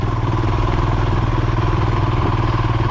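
Royal Enfield Himalayan motorcycle engine chugging steadily in second gear while riding on ice, a loud, continuous low thumping pulse heard close and alone.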